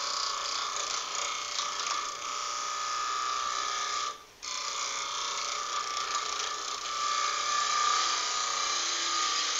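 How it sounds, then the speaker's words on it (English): A woodturning tool rides the bevel on a spinning workpiece on a lathe, then eases into cutting, giving a steady high whirring scrape with one brief dropout midway. "we're not cutting, we're just riding the bevel. And then slowly start to maneuver the tool to where it cuts"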